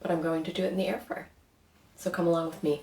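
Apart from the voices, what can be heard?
No everyday noise stands out behind the speech.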